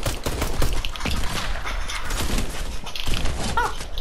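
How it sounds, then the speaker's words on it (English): Rapid video game gunfire rattles in dense overlapping bursts throughout, loud and close in a sniper-themed shooter match, with no clear talk. "We're getting shot at!"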